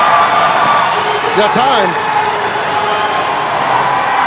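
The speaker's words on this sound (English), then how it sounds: "She's got the crowd on their feet." Arena crowd at a strongman event, the Arnold Strongman Classic, a steady dense roar of cheering and whooping from a packed house, with a commentator talking over it.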